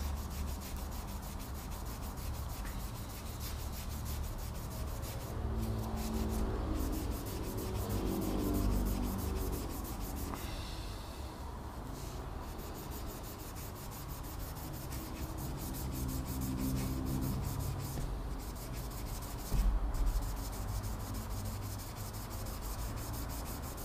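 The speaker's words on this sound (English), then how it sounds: "we take a wool cloth, like this one, and actually rub off all the dirt and cream on the frets" A wool cloth rubs along guitar frets and the fretboard to clear dirt and cleaning cream, a continuous close scrubbing and brushing with repeated back-and-forth strokes over about twenty seconds.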